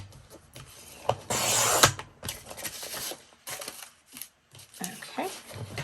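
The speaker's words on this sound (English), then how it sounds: "So let me get my cutter back out. And let me trim these." Paper being trimmed with a cutter for handmade mini junk-journal books: close scraping and rasping strokes, one longer slicing pass and several short rubs, with soft handling noises between them.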